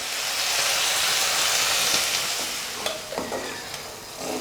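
Tomatoes sauté in a pan for kurma with a dense, hissing sizzle up close, then a few spoon scrapes and taps toward the end while the frying continues, and no one speaks.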